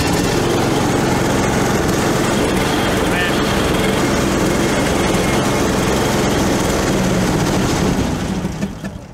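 Small engine on a Boss snow plow started with choke and starter button, then running at a steady loud drone throughout, fading slightly at the very end.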